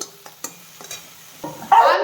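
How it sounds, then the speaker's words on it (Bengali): Boneless chicken frying with vegetables, salt and pepper: a few sharp utensil clinks and stirring knocks, then a loud hissing sizzle swells up close toward the end. "বোনলেস চিকেন নুন মরিচ দিয়ে একটু সবজির সাথে ভাজা ভাজা করে নিচ্ছি"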